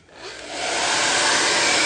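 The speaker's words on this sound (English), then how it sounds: "So I dropped my hair dryer." A hand-held hair dryer roars to life, ramping up over a fraction of a second into a loud, steady, close whooshing blow with no talk over it.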